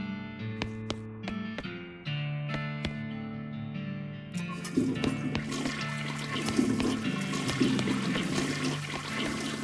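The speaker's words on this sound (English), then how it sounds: "Can you flush the toilet in this game?" A toilet flushing inside a video game: a loud rushing water swirl takes over midway through, over a continuous in-game music bed with steady plucked notes.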